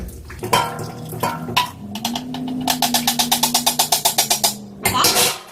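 Juices drained off pork tenderloin in a metal pan, with a clatter of pan and lid followed by a rapid rhythmic series of loud metallic knocks, close and clear.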